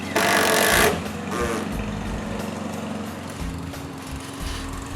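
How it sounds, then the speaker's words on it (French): A power screwdriver drives screws through roof tiles while a new workshop roof is built, with a loud burst of whirring at the start, then shorter motor runs and bumps over a background drone. "Je mets une vis aux deux extrémités de chaque tuile."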